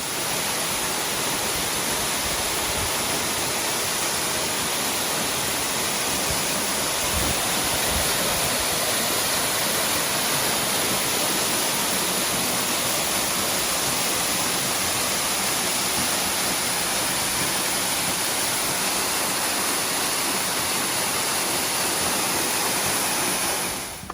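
Glory Falls, a twin plunge waterfall in Waterfall Valley on the Cradle Circuit, roars as a steady, dense broadband rush of falling water, close and unbroken throughout with no talking.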